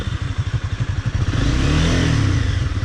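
A Honda CBR250 motorcycle pulls away slowly on half clutch. The engine putters in an uneven chugging rhythm, then steadies into a louder, smoother drone as it picks up, close by, with no voices.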